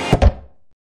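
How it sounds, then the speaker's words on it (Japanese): A door swung shut on a cold winter day, giving two quick close thuds and a short fading rumble before silence. "一回扉閉めましょう"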